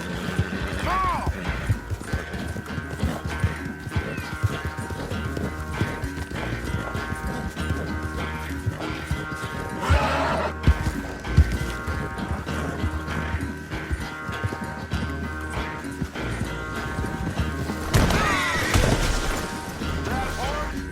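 Horse hooves and neighing in Red Dead Redemption 2, mixed with clattering, mechanical knocks and a couple of louder crashes over a busy, continuous game soundscape; hoofbeats come irregularly and mid-distance.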